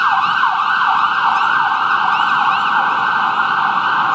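Emergency vehicle sirens wail loudly and continuously in an alley, a steady rising-and-falling tone that fills the whole stretch with no talk over it.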